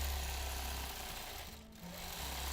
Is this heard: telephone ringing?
no